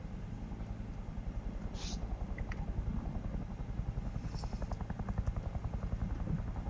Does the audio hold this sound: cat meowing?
no